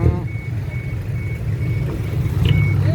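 Reversing beeps from a dump truck hauling soil repeat at a steady rhythm as short tonal pulses above a continuous low engine rumble, moderately loud and close, with no talking.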